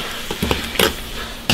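Chili and Sichuan pepper are stir-fried in an iron wok, a loud close hiss of frying broken by a few quick scraping strokes of the spatula, with no talk.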